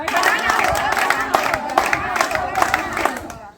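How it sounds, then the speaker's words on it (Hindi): An audience claps after a stage performance about ending the dowry custom, dense rhythmic clapping with crowd noise, loud and close throughout before cutting off at the end. "तालियों से काम नहीं चलेगा"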